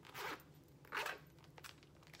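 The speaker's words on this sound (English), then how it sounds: "Here's the zipper." A zipper being pulled open on a Disney Store purchase, two quick rasping zips close by, followed by faint crackling and rustling.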